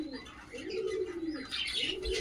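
Pigeons in a breeding loft holding adult breeding pairs give repeated soft, throaty coos in rolling phrases, with a few brighter chirps mixed in, close and clear, with no talking.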